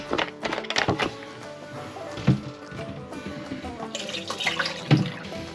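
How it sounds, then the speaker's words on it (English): RV antifreeze poured into a sink P-trap while winterizing a travel trailer, heard as a splashing, gurgling pour with a few hollow thunks against the drain, close up and without talk. "And pour it in the P-traps."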